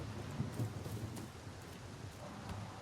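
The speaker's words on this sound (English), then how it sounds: "rain began to fall and lightning began to flash" Steady rain and low thunder rumble at night in the game Far Cry 6, a dense wash of rainfall holding at an even level throughout with soft rolling low-end rumbles and no voices.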